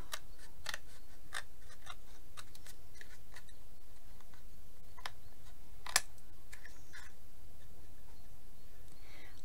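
Scissors snipping through foam backed with cardboard for a recycled Valentine's craft, a string of sharp, close cuts and clicks at an uneven pace, steady and moderately loud, with no voices over them.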